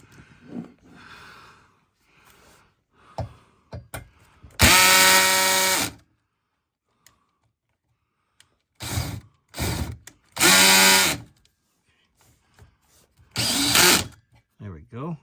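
A power drill drives a screw into a Sleep Number bed frame in loud, separate bursts, some short and some lasting a second or more, with quiet pauses and faint rustling between them.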